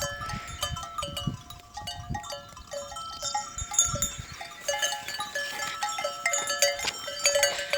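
A lamb bleats repeatedly outdoors among a flock of sheep, its wavering calls rising and falling over the faint clank of animal bells.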